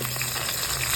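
Rohu fish frying in hot oil, a dense, steady close sizzle with a faint crackle over a low hum, brief and continuous.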